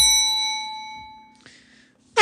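A single clear bell ding rings out and slowly decays, followed by a brief clank and a sharp noise at the end.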